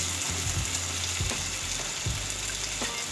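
Chopped tomatoes drop into a pan of nearly softened frying potatoes, setting off a steady, close hiss of sizzling oil with a few soft stirring bumps and no talk.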